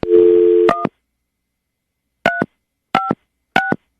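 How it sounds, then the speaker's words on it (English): A telephone handset gives a short burst of dial tone, then four separate DTMF key tones are pressed one by one at an uneven pace, each a crisp, clear beep with silence between. "we're going to dial now, see if he'll answer"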